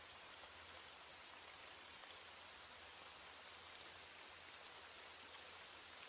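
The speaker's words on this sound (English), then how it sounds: "As the rain falls and the night deepens" Steady rain falls in an even, dense hiss of countless drops on a surface, unbroken and fairly soft, with no voices.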